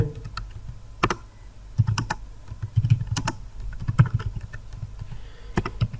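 Someone types on a computer keyboard in an irregular stream of quick, close clicks and heavier key thumps, some bunched in bursts, with no one speaking.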